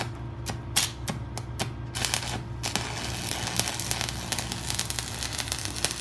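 Arc welding tacks on the four corners of a steel lap joint, a run of sharp crackling bursts in quick succession that settle into a continuous frying hiss, close and fairly quiet.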